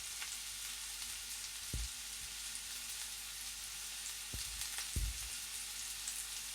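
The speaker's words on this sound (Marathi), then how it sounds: "शेंगदाणे परतून झाले की यामध्ये आपल्याला भाज्या टाकून घ्यायच्या आहेत" Vegetables tip into hot oil with already-fried peanuts, giving a steady, fairly quiet sizzle with a few soft thuds of ingredients or a spoon landing in the pan.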